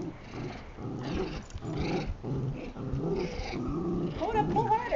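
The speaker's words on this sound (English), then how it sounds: "It's just growls" Low, rumbling growls from two dogs playing tug-of-war, in bursts, close by, mixed with some background noise and rustling.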